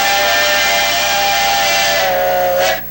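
A steam locomotive whistle sounds one long, loud, steady harmonic blast that shifts slightly in pitch near the end and then cuts off abruptly.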